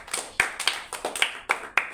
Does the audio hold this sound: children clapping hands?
yes